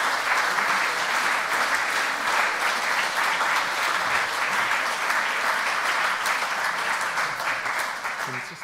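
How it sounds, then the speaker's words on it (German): Strong, sustained audience applause after a talk on the end of capitalism, dense clapping holding steady for several seconds before easing slightly at the end. "Für diese Botschaft haben Sie starken Applaus bekommen."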